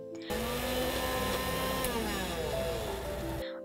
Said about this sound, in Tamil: நாம் இவை அனைத்தையும் நன்றாக அரைத்து கொள்ள வேண்டும்.